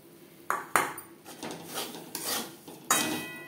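Roasted semolina being stirred in a pan over a low flame, a few sharp metallic clinks of a spoon against the pan between soft scraping and rubbing strokes, close and fairly quiet with no talk.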